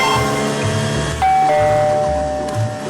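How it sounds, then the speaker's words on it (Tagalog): A two-tone doorbell chime rings out clearly, ding then dong, over a busy background of music. "Biglang, ting-tong! Malakas na tumunog ang doorbell sa harap ng bahay."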